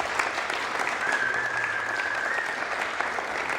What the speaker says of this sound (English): can we have another round of applause for all of our candidates